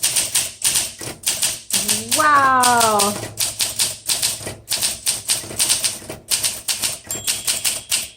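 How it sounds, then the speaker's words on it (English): Rapid mechanical keystrokes on a 1958 Olympia SM3 manual typewriter, a steady fast clatter with brief pauses, a carriage-return ding near the end and a voice briefly exclaiming partway through. "Olympias are such fantastic typing machines, it just spoils you for anything else."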